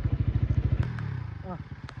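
A Honda Crossfire motorcycle engine throbs at low revs on a slippery muddy riverside track, a steady pulsing rumble that bogs down as the bike gets stuck, with people talking close by.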